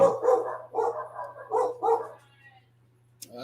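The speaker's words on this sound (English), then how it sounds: "Dogs are going nuts downstairs." Several dogs bark downstairs indoors: five quick, somewhat muffled bursts in an uneven rhythm, then quiet with a faint steady hum underneath.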